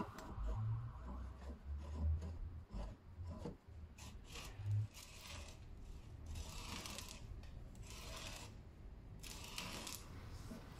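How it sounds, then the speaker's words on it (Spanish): A hand threading die with a V-cutter cuts threads into a wooden dowel held on a lathe, producing faint, rhythmic rasping and rubbing strokes with a few soft knocks near the start. "esta tarraja funciona con una cuchilla en V que tiene puesta adentro"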